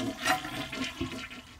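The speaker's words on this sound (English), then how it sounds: "flush the toilet to empty the tank" A toilet flushes to drain its tank, the tank lid already removed, giving a brief rushing gush of water that stays steady and close.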